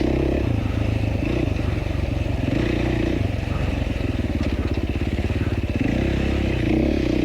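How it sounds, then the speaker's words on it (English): A dirt bike engine putters and revs close by during a trail race, with rattling clatter and scraping throughout. "You can hear the bike a little bit in some of the slow stuff."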